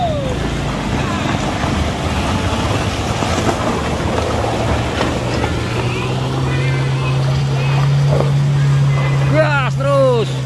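A Mitsubishi Canter truck engine revs hard at full throttle, a loud, steady low drone that rises in pitch midway, with wind buffeting and people talking over it.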